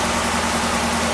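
Supercharged 2021 Camaro ZL1 1LE engine running close by, a steady, loud, low rumble with no clear rise in revs over about a second, with no one speaking.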